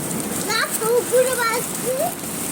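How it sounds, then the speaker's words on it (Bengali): Torrential midnight rain over Dhaka city makes a steady, broad hiss in the background while a voice talks over it throughout. "এই মুহূর্তে ঢাকা শহরে মুসলধারে বৃষ্টি রাতের বেলা রাত বারোটার সময় মুসলধারে বৃষ্টি আছে"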